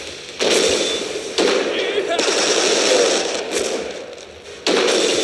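Aircraft strafing machine gun fire in the WWII strategy game Road to Valor, loud bursts of rapid gunfire cutting in and out against a continuous noisy battle background.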